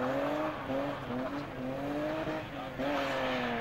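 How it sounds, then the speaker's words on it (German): Rally car at a snowy winter rally drifts with engine revving in rising and falling sweeps and tires squealing, heard from a distance with steady crowd or ambient noise underneath. "Das war auch eine Möglichkeit zu driften."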